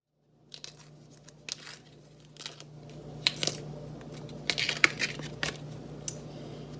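Fresh bamboo shoot being cut and its tough outer layers peeled by hand, giving scattered short crackling tears and fibrous snaps over a low steady background hum, growing busier toward the end.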